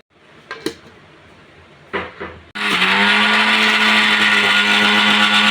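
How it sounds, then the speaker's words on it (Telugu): After a couple of clicks and brief rattles, a mixer grinder grinding almonds with milk starts up and runs loudly and steadily with a high whine. "ఆ పాలు కొన్ని కొన్ని వేసుకుంటూ మిక్సీ పట్టుకోవాలి"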